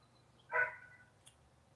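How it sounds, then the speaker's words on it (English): A dog gives one short, high whimpering whine, fairly faint against a quiet indoor background with a low hum, followed by a tiny click. "Dog's whimpering."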